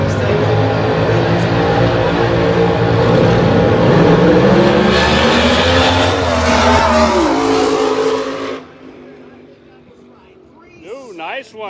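Methanol-fueled Camaro and Mustang funny cars race at the Texas Motorplex, with loud roaring engines building and revving before cutting off sharply. A voice talks over the noise, and the track goes quieter afterward.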